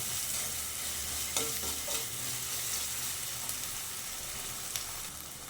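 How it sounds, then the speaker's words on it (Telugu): Ginger paste fries in a pan with a soft, continuous sizzle, a few faint clinks of a spoon stirring it now and then, heard close with no voices. "అల్లం పేస్టు పచ్చి వాసన పోయే వరకు వేపుకోవాలి"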